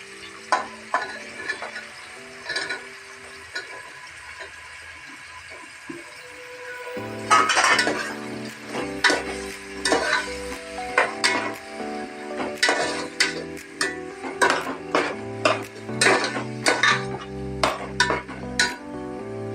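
Capsicum stir-fried for chilli Manchurian: after a few quiet taps, vegetables drop into a hot pan and a loud sizzle takes over, with repeated metallic clinks and scrapes of a spatula tossing them, close and busy.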